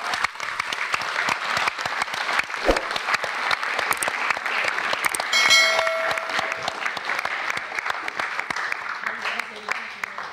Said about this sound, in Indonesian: di saat kamu mendengar tepuk tangan yang sangat banyak dan keras sekali